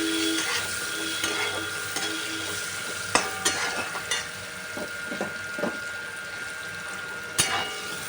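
Cubed potatoes and chopped onion fry in oil in a pan, a steady sizzle broken by irregular scraping knocks of a spatula stirring, close and clear with no talking.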